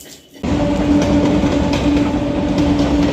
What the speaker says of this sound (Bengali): ট্রেন যাচ্ছে এখন রোজই যায় আজও যাচ্ছে